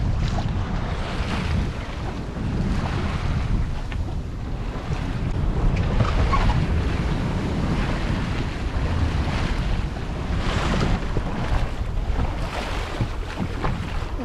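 Choppy sea waves slap and wash around a small 20-foot sailboat under way toward the Gunfleet wind farm, heavy wind buffeting the microphone in a constant loud roar with irregular surges of water splash.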